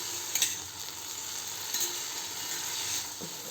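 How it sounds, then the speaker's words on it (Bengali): Food frying in a pan with an even sizzle, broken by a few scraping knocks of a stirring spoon against the metal. "চলুন এই ভাজাটা করে নিই।"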